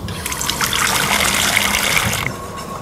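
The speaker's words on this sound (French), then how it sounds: "Je mets directement à rafraîchir à l'eau froide." Cold tap water runs and trickles steadily over a freshly cooked peach in a kitchen, a loud, continuous close-up splashing that thins out near the end.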